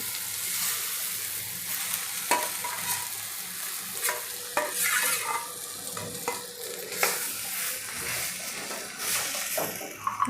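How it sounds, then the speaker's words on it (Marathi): Four mashed boiled potatoes being stirred into masala frying in a pan: a steady sizzle with a spatula scraping and knocking against the pan at intervals, close-up with no talking. "आता यामध्ये मी 4 उकडलेले बटाटे बारीक करून घेतलेत ते टाकूया."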